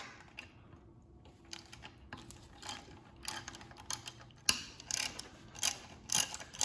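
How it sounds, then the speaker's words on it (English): A ratchet with a 5mm Allen socket works bolts loose on a Fiat 500 Abarth during a turbo and exhaust manifold install, giving quiet, intermittent bursts of rapid clicking with short pauses between strokes. "we've got 3 bolts here that take a 5mm Allen socket to remove"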